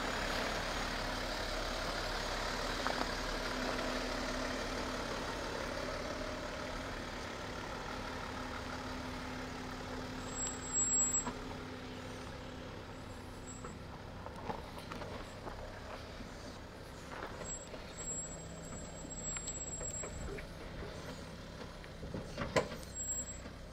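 An INEOS Grenadier 4x4 crawls slowly over off-road ground in Australia, its engine giving a low, steady rumble with faint knocks and scrapes from the terrain.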